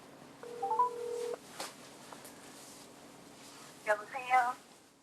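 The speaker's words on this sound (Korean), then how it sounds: "일단 전화 연결 한번 해보도록 하겠습니다" A telephone call is placed on a live talk broadcast: a short burst of keypad dialing tones, then a brief ring pattern and a faint click, with quiet room noise between them.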